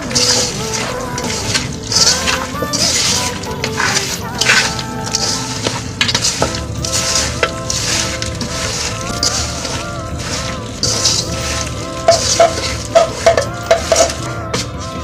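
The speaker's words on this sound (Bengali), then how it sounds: "এখন মাংস দিয়ে মাখিয়ে নেব।" Raw beef is squished and kneaded by hand with onion, chili, turmeric, garam masala, cumin, coriander, garlic and ginger paste, giving wet, sticky squelches and slaps in an irregular rhythm, loud and close, with a voice speaking over parts of it.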